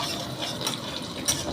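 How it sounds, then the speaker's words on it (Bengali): Fish is stirred in a pan over medium-low heat as it cooks with coriander leaves, giving soft scraping and gentle sizzling, close and continuous, with a couple of brief clinks. "মিডিয়াম টু লোতে এটাকে একটু ভালো করে একটু নেড়ে নেড়ে নেব"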